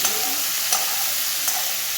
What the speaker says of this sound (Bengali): এবার একটু ভালো করে ভাজা ভাজা করবো পেঁয়াজটাকে।